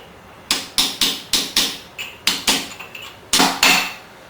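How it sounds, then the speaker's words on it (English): A hammer taps a key onto a 454 Chevy crankshaft with about ten sharp, ringing metallic strikes in uneven groups, close up and loud, each hit decaying quickly. "Usually you'll actually feel a little more firmness when you hammer, and it'll make a different sound when you're done"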